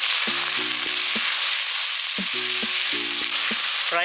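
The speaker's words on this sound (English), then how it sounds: "After the oil is heated, I'm going to add 3 sliced onions." Three sliced onions fry in hot oil for Hyderabadi mutton mahi khaliya, giving a loud, steady sizzle with repeated low tonal beeps over it in two bursts.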